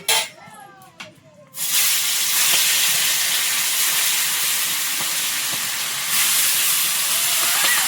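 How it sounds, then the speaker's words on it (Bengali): Fish frying in hot oil in a wok (kadai) in an outdoor Sundarban cooking setting: after a few faint knocks, a loud, steady broadband sizzle bursts in and hisses continuously, swelling slightly near the end. "কড়াইয়ে তেল দিয়েছি, এবার মাছগুলো ভেজে নেব।"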